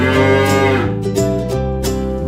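In the Minecraft video game, a cow gives several loud, drawn-out moos, one after another, each low and tonal, with no talking.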